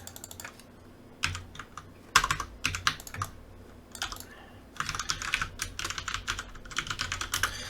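Clicky computer keys being typed up close, in quick bursts of keystrokes separated by short pauses, then a steadier run of typing toward the end; no talking.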